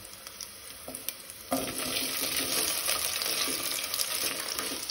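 Potatoes sauté in ghee with green chillies for sabudana khichdi, a steady close sizzle that jumps louder around the second mark and holds as a dense, continuous fry with light stirring scrapes.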